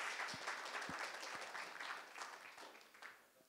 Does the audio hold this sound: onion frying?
no